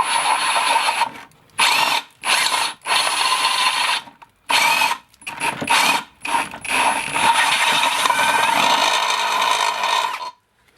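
A power drill bores into a 1JZ/2JZ engine part during a teardown, whining loudly in repeated bursts with short pauses between them, no voices over it.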